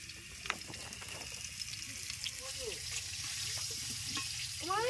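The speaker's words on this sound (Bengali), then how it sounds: "আমি সবে আলু ভাজছি" Potatoes frying in a pan for mutton curry with salt and turmeric, a quiet, soft sizzle broken by a few scraping stirs.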